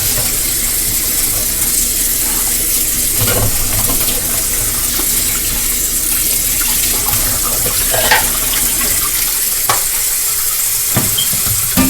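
Hot water runs steadily from a tap into a small kitchen sink, a continuous close hiss and splash, with occasional clinks and knocks from dishes or utensils nearby.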